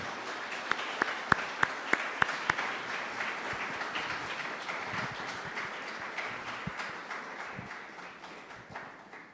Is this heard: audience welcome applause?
yes